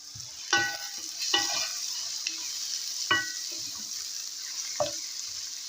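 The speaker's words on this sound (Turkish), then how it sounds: "soğanlarımız pembeleşinceye kadar kavuruyoruz" Soft continuous sizzle of chopped onions frying in a pan until pinkish, with a few louder clinks and scrapes of stirring spaced through it.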